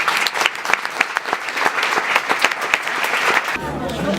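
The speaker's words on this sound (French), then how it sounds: "Je vous demande d'applaudir Merzak Alouadi." Sustained applause from an audience, dense clapping that keeps going at steady volume, with a short low rumble near the end.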